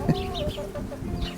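Chickens clucking nearby along a Lake District walk, a few short choppy clucks and squawks in quick succession, no talking.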